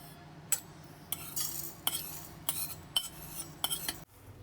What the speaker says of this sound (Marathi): एका ताटात आपण काढून घेऊया